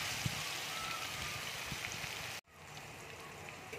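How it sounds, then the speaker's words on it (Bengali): Taro stolons (kochur loti) frying in a pan give off a faint, steady spattering hiss, nearly cut off by a sudden drop partway through and then resuming more softly, with no voices. "কচুরলতিটা ভালো করে ভেজে নেবো"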